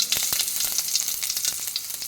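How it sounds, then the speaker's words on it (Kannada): Mustard seeds and a few curry leaves tempering in hot coconut oil, a close, busy crackle of quick popping spitting bursts over a continuous sizzle. "ಒಂಚೂರು ಸಾಸಿವೆ ಮತ್ತು 4-5 ಎಸಳು ಕರಿಬೇವು ಸೊಪ್ಪು ಹಾಕ್ಕೊಂಡು ಒಗ್ಗರಣೆ ಕೊಡ್ತಾ ಇದ್ದೇನೆ"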